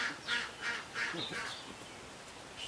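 A duck quacks in a short run of nasal calls, five or six bursts at a steady rhythm, fairly close and moderately loud over faint background noise.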